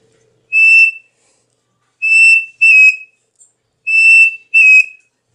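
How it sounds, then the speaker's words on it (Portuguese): Simple quail call whistle carved from a small square piece of wood, sounding a single sharp chirp and then two quick paired chirps, each pair repeated, bright, close and unaccompanied by speech. "Esse é o de codorniz simples que a gente tem aqui."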